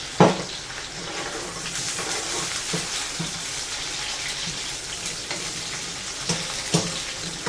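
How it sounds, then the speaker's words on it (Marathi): Onion and ground masala paste with curry leaves sautéing in a pan for a Konkan-style kingfish curry: a steady, close sizzle broken by the scrape and clack of a stirring spoon. "व्यवस्थित परतून घ्यायचं व्यवस्थित कांदा भाजून घ्यायचा आपल्याला"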